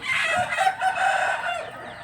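A six-month-old rooster crows loudly and close by, a single sustained call that rises and trails off, with no other sounds over it.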